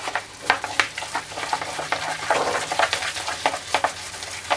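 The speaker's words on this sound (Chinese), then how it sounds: "搞到佢起膠為止咯，又係即係會全部黏合埋一齊" Minced pork and cabbage wonton filling, loosened with a little cornstarch, is stirred and worked until it turns sticky, giving repeated wet squelching and scraping strokes at close range with no talking.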